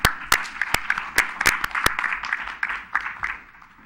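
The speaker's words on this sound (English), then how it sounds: "you can clap for her" Applause at a San Bruno city council meeting: a modest crowd claps for a few seconds, with a few sharp, loud claps standing out near the front over a steady patter.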